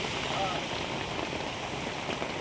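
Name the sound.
heavy sudden rain falling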